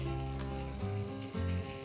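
Potatoes and onions fry in a pan with a steady, close sizzle over a sustained tonal hum, with no voices.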